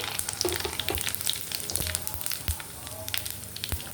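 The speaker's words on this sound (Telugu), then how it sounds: "ఎండుమిర్చి ఫ్రై అయిపోయాయండి ఇప్పుడు ఆవాలు జీలకర్ర వేసేసుకున్నాం" Dry red chillies, mustard seeds and cumin fry in hot oil for Telugu ginger chutney, giving close, busy sizzling with sharp crackles and pops and a few stirring knocks. No voices are heard.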